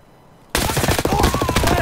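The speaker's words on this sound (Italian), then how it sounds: "Stanno arrivando di là i colpi, gli spari, comunque." Automatic gunfire in the video game Escape From Tarkov bursts in suddenly after a short quiet start, then continues as a dense, loud volley of rapid shots.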